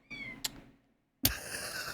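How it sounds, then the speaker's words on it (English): Kittens meow loudly and close by: a drawn-out cry, a sharp clack, a short silence, then another abrupt, strident meow. "Holy fuck these kittens."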